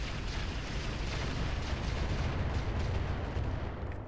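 Mech weapons fire in the Roguetech video game as a dense, continuous rumbling barrage of booms and blasts, heavy in the low end and sustained without pause.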